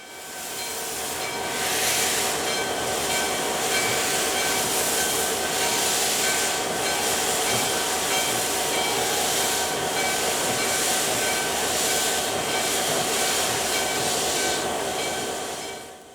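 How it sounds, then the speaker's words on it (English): DM&IR steam locomotive 332 sits under steam at a Minnesota railroad museum, giving off a steady, loud hiss with a continuous rumble that holds evenly throughout. "September 7th finds not only the 332 under steam"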